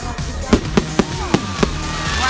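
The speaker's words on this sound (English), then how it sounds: "That's the best firework I've seen in my life." Bonfire Night fireworks display going off with five sharp bangs in quick irregular succession, loud and close, over a background of crowd noise.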